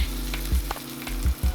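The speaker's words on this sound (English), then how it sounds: "it's starting to boil, or fry rather. That's how you know that your oil is hot enough and ready to start frying." Speckled trout sizzles in hot frying oil, a steady close crackle with a few sharper pops and bursts of bubbling, no voices.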